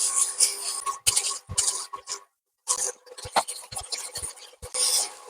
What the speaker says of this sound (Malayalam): ആ രീതിയിൽ നമുക്കിത് ഇളക്കാം.